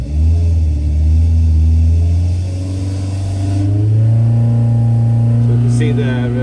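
A car engine with an R22 rally camshaft revs on a dynamometer, a loud, sustained drone close by that rises steadily in pitch as the revs climb, with no voice.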